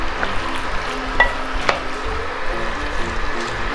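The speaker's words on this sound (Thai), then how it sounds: "กระเทียมกับพริกนะครับ ที่ผัดไว้นะครับ เทลงไปเลยนะครับ" Pork and cabbage stir-frying in a pan as fried garlic and chili go in, a steady sizzle with scraping and stirring clatter, close and continuous.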